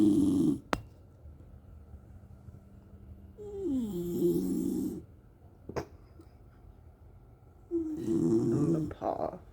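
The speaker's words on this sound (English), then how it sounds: "How can you be snoring and awake?" A dog snores loudly and close in rasping, rhythmic breaths over a lazy morning, with quiet gaps between the snores and a few sharp clicks.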